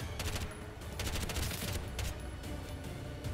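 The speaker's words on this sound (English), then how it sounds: "Maybe I just have to shoot like this?" Rapid bursts of gunfire from shooting in the video game Bright Memory: Infinite crackle in quick volleys, with short gaps between clusters of shots.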